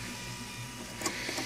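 Velleman K8200 3D printer printing a Batman Beyond batarang, a faint steady motor whir with soft stepper tones and a couple of small clicks near the end.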